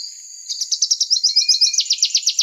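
An Arizona bird sings a steady, rapid trill of evenly spaced high notes that grows louder partway through and holds its pulse to the end, close and clear with no other sounds.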